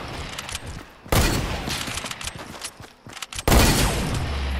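A sniper rifle headshot in Fortnite comes through as two sharp, loud broadband blasts with ringing tails, set against steady ambient game noise.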